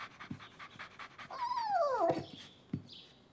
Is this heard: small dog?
yes